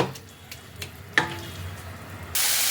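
Masala for ghugni frying in a pan with a splash of water, heard as a low continuous sizzle with a few light stirring scrapes and one sharp clack, then a sudden louder hissing burst near the end.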